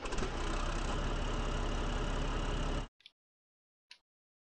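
A tractor engine idles in the Farming Simulator video game, a steady close mechanical drone that cuts off abruptly, followed by two short faint clicks.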